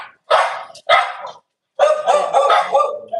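A dog barks in several sharp, loud bursts close by, with short pauses between the first barks and then a longer run of rapid barking, heard indoors.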